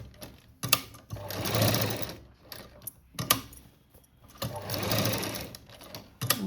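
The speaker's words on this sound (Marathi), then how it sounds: "या पद्धतीने शिवून घ्यायचं कटवर्क" A sewing machine stitching a cutwork neck design on a blouse: two sustained runs of close, steady mechanical whirring, separated by short clicks and pauses as the fabric is repositioned.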